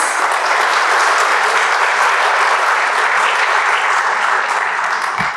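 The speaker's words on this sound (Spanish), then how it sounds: "un aplauso caluroso para nuestra rectora" An audience at a university teacher-training seminar in Chile breaks into warm, sustained applause, a dense, even clatter of many hands clapping that continues without a break.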